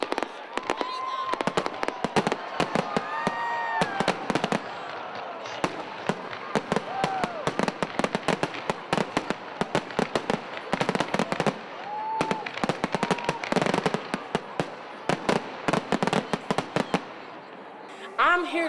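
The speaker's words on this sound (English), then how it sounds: "capped off the night with a wonderful fireworks display" Fireworks display at a university Christmas celebration, a dense run of sharp bangs and crackles bursting in quick succession over many seconds, with occasional whistling rockets rising between blasts, heard at some distance under faint crowd noise.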